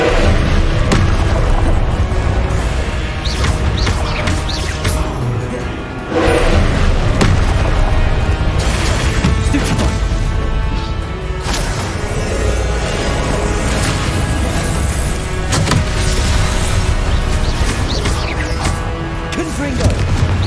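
Spell blasts from Hogwarts Legacy combat, loud booms, crashes and thuds piling up over a steady game soundtrack, with voices shouting incantations throughout.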